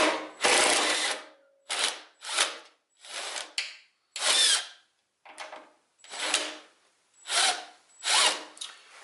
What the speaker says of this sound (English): we're going to go ahead real quickly and pop these screws right here loose